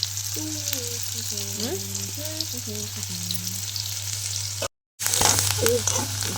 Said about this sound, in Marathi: कांदा टाकून घेतला तर लाल भडक कांदा भाजून घ्यायचा आता